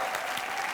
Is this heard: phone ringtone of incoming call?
no